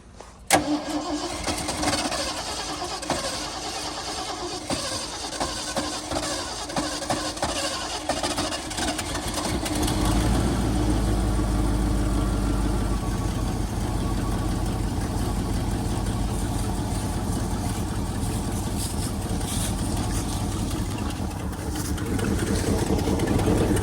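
An engine cranks and catches after its air cleaner is refitted, then settles into a steady, loud idle that runs on to the end with a deep low rumble and no talking.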